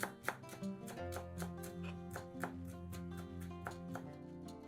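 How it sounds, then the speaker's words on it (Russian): A knife chopping a bunch of dill on a board, a quiet run of quick, regular taps set beneath louder background music. "Нарезаем пучок укропа."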